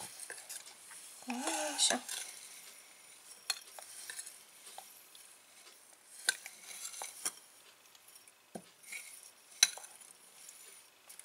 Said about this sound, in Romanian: Acum amestecăm toate ingredientele uscate.